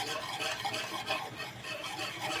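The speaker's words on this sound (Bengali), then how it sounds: "ওটা অল্প অল্প করে দেবো আর এইভাবে মেশাতে থাকবো" Crushed Marie biscuit stirred into milk for malai kulfi, a steady rhythmic scraping and swishing of a spoon in a pot, close and continuous with no voices.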